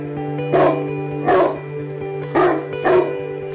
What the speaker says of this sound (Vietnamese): con chó nó cứ sủa hoài